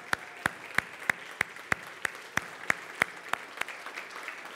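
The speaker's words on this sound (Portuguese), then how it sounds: "Só quem vive o melhor de Deus, aplauda Ele, dando graças," A church congregation claps in unison with sharp, evenly spaced beats at about three per second, moderately loud in a reverberant room, and the claps fade out at the end.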